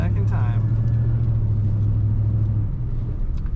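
A 1974 Chevrolet C20 truck engine idles with a steady, loud low rumble and strong hum throughout, the tone easing slightly near the end.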